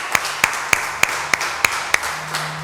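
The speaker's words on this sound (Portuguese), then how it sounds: "Você pode dar mais uma salva de palmas ao Senhor?" Clapping at a church service, a string of sharp, evenly spaced claps about three per second that fade at the end, with a faint low sustained tone underneath.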